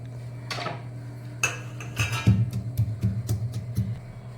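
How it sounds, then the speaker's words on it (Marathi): Coconut, garlic and cumin being pounded in a stone mortar and pestle in a home kitchen, heard as a run of close, fairly loud knocking strikes over a steady low hum, with no talking. "खोबरं, लसूण आणि जिरं खलबत्त्यामध्ये मी कुटून घेतेय."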